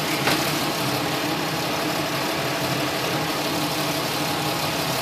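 Car engine with a 3.1 or 3.4 litre motor idling while its coolant system is bled, a steady, even mid-pitched drone with a faint vibrating rumble, close and continuous with no talk.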